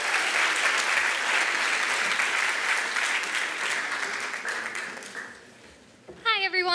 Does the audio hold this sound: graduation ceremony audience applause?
yes